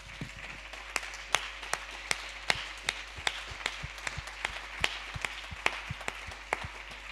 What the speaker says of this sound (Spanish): El último aplauso del festival se lo va a llevar él